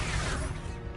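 A blasting Expulso spell impact in a Hogwarts wizarding video game, a loud, dense crashing burst that rumbles on steadily for about a second.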